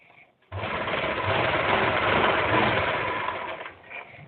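A sewing machine runs steadily for about three seconds, stitching around a Patiala salwar, with a dense close whirring motor and rapid needle rattle, starting abruptly and easing off near the end.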